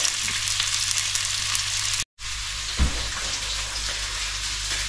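Bacon sizzles steadily in a frying pan, a loud close crackling hiss that cuts out briefly midway, then resumes with a soft clunk.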